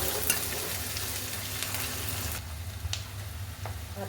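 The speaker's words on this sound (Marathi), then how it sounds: "आता टाकूया कांदा। हे चांगलं परतून घेऊ।" Onion frying and being stirred in a pan for a Marathi besan pithla, a steady soft sizzle with a few sharp spatula scrapes, close and fairly quiet throughout with no talking.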